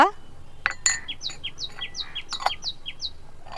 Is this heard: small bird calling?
yes